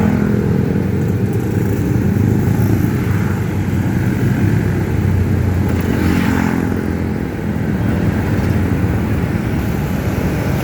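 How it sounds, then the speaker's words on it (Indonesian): A huge convoy of thousands of motorcycles rolls along a road in Tasikmalaya, Indonesia, making a loud, continuous layered engine drone that stays close and steady throughout. "sangat ramai sekali ribuan motor."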